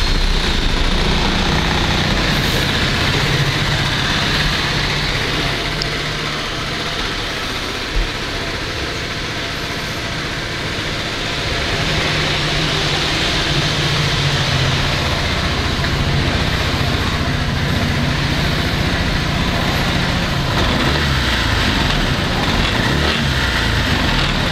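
A 2013 Honda PCX150 scooter engine running steadily at idle, a continuous close droning hum with little change in pitch throughout, no talking.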